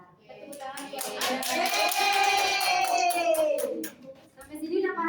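A classroom of children claps their hands together in a sustained burst of rapid, overlapping applause lasting several seconds, with a teacher's and kids' voices audible beneath it.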